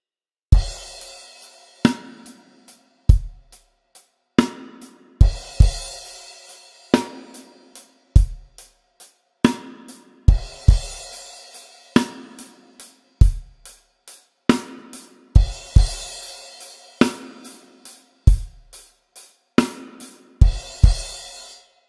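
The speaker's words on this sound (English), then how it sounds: "now the variation of the verse that you sometimes hear with a crash cymbal sounds like this" A drum kit plays the verse variation of a song, with a deep kick and snare in a slow, steady groove, accented by a bright crash cymbal on the beats, close and clear with no talking.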